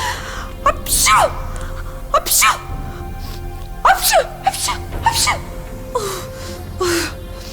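A voice sneezes again and again, several loud sneezes spaced about a second apart, with gasping breaths between them.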